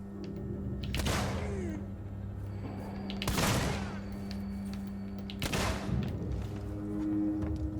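Three heavy shotgun blasts from Alien: Isolation, spaced about two seconds apart, each a sharp loud boom with a short decay over a constant low droning hum.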